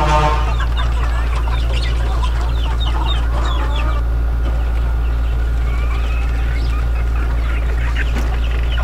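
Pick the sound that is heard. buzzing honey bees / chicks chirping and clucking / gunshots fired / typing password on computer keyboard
chicks chirping and clucking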